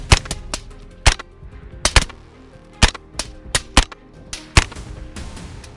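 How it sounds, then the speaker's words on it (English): Gunshots fired at wild boars at night, a dozen sharp cracks at irregular intervals, some in quick pairs, loud and close against a steady outdoor background. "gunshots echo through the night"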